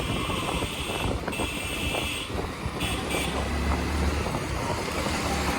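Hero Splendor motorcycle ridden through Delhi traffic, a steady loud rush of engine and wind buffeting on the microphone throughout, with no talking.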